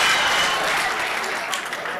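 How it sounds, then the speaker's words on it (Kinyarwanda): An audience breaks into sustained applause, a dense, loud wash of clapping from many hands throughout the clip, with voices mixed in. "Amashyi menshi."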